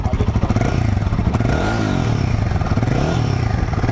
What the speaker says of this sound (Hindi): हिमालयन की आपको साउंड सुना देता हूँ।